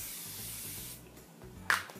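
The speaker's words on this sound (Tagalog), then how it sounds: "mag-spray na tayo para fresh" A makeup setting spray releases a long breathy mist, a steady airy hiss lasting about a second up close, then a brief click as the nozzle is released.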